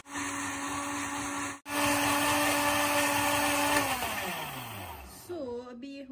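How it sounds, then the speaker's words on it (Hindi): A blender whirring through a strawberry smoothie with honey, loud and steady with a brief cut, then the motor winding down and stopping near the end. "मैंने हनी डाला है और अब हम इन सबको कर लेंगे ब्लेंड"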